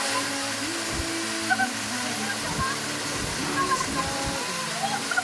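Olangoan Falls waterfall roaring steadily as a broad, constant wash of water noise, with people talking over it throughout.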